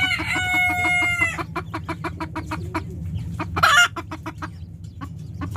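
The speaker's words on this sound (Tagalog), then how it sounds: "ito itong mga manok na to" Native chickens cluck repeatedly in a steady run of short calls, with one louder squawk near the end and a brief crow-like call at the start.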